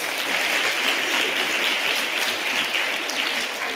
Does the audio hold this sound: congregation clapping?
yes